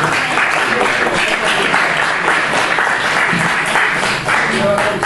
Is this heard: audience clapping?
yes